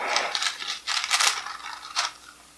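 Parchment paper is pulled from beneath a baked carrot cake, giving a few quick crinkling, scraping rustles close by with no talking.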